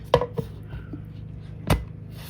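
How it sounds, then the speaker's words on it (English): A plastic lid being fitted onto a countertop milk maker makes two light clicks close together, a brief pause, then one sharper clack, all close up against a low steady hum. "Now goes on the lid."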